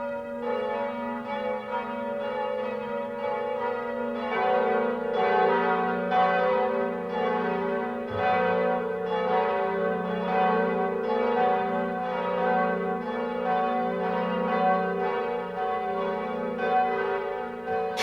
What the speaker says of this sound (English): Quasimodo was so happy that he rang all the bells.